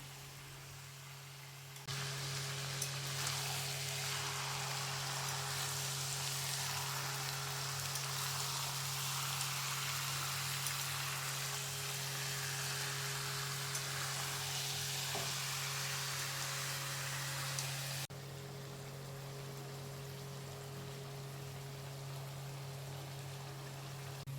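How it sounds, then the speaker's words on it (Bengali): Meat frying in oil in a pan for a Sunday home meal, a steady soft sizzle running continuously at low level and then dropping slightly quieter near the end, no talking. "আর এই যে দেখো মাংসটাও দিয়ে দিলাম। এরপর আস্তে আস্তে কিছুক্ষণ কষাবো"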